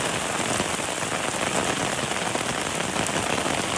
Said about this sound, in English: So this is a heavy rain